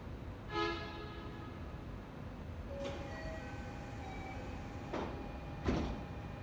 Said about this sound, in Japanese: 列車が動きます。